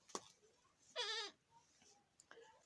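Goats bleat at a small rural homestead: a short faint call, then one loud wavering bleat near the middle, followed by a fainter brief bleat at the end, all over quiet background.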